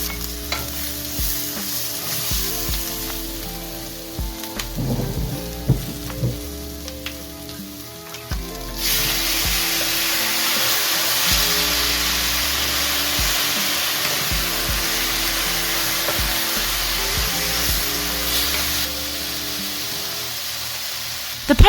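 Vegetables and garlic sizzle in a pan for sweet and sour tofu, with stirring scrapes over a steady frying hiss that grows louder and more constant partway through.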